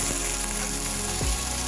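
Hyacinth beans frying in hot ghee: a loud, steady, close sizzle fills the whole stretch, with a couple of brief stirring scrapes and no voices.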